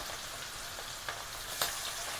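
Steady, close sizzling of large prawns frying in hot oil, with a couple of faint pops and scrapes.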